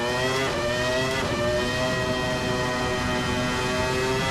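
A Ferrari F310b Formula One race car in a racing simulator screams under hard acceleration, a loud, steady high-pitched engine howl with rising harmonics throughout, no voices.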